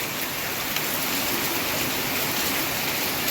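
Heavy rain falls outside a house as a steady, dense hiss with no pauses, fairly close and loud, and no one speaks.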